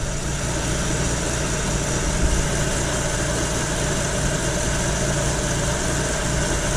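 A BMW V12 swapped into a 1930 Model A Coupe, fitted with a rebuilt Rochester 2G carburetor, idles with a steady, close, droning rumble that runs unbroken from start to finish, with a slight unevenness in the beat.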